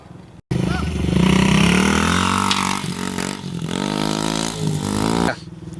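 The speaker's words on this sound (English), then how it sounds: "I ride dirt bikes, and so should you." A dirt bike engine revs loud and close while riding, the pitch rising and falling through several throttle blips before cutting out, with a voice talking over part of it.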